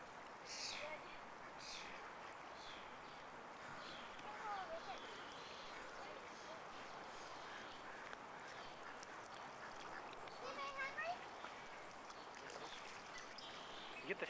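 Geese and ducks gather to be fed at a city lake, giving faint, scattered quacks and honks against steady outdoor background noise, while people talk quietly nearby.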